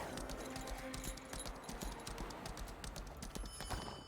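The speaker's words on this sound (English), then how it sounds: "You have to ride your horse." Horse hooves clip-clop in a rapid, steady rhythm while riding in the Lost Ark video game, fairly quiet and continuous throughout with faint background ambience.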